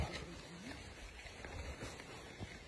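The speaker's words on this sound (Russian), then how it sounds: "Сегодня день дождливый" Rain falling outdoors at a training camp, a steady hiss of drops with scattered patters on surfaces, faint and continuous throughout.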